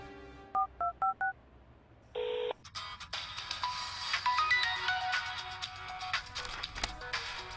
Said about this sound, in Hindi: ओह, रम्या का फोन है।